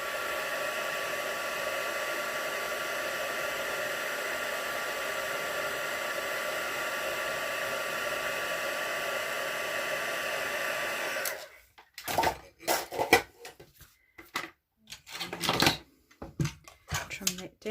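A heat gun blows a steady, even whoosh for about eleven seconds while embossing a handmade card, then cuts off, followed by brief scattered handling and trimming noises.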